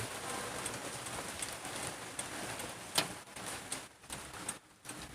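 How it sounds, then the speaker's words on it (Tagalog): Steady rain pours down, a dense hiss of drops hitting surfaces, with a few sharper patters near the end. "ang lakas pa din mga kaipak ng ulan talaga oh"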